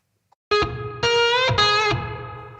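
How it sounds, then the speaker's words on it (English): Clavinet played through an overdriven amp with spring reverb: three bright, distorted chord stabs with a gritty buzz, each ringing briefly with a reverberant tail, loud and alone. "Let's put on some spring reverb."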